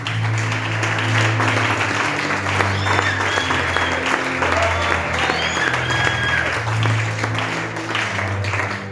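A church congregation at an evangelistic service applauds and cheers for Jesus: dense, sustained clapping fills the whole stretch, with low held keyboard chords underneath and no speech.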